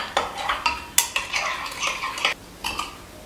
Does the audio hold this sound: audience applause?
no